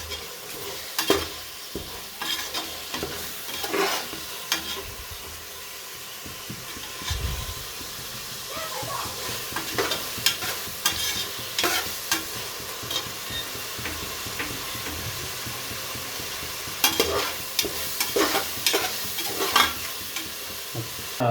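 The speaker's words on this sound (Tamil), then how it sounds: "புதினா போட்டு நல்லா வந்து பார்த்திங்கன்னா நல்லா கிண்டி விடணும் வதங்குற வரைக்கும்" Mint fries in a pan for chicken biryani with a continuous sizzle, while a spatula scrapes and stirs in irregular bursts, close and moderately loud.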